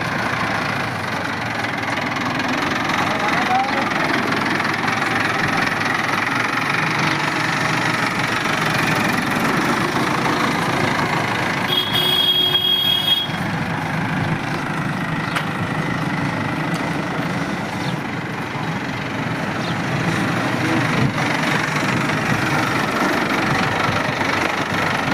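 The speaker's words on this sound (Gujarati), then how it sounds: "વિડીયોમાં તમે જે મહિન્દ્રા ટ્રેક્ટર જોઈ શકો છો મહિન્દ્રા નોવો 2020નું મોડલ જોવા મળશે." A 2020 Mahindra Novo 755 tractor in good condition idles steadily, its engine giving a continuous close, even rumble with a faint knocking texture for the whole stretch and no talking.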